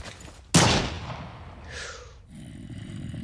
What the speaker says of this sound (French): je viens de tirer actuellement dans mon bunker